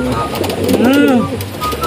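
A pigeon gives a soft, rolling coo, close and clear, with other birds murmuring and a person talking faintly in the background.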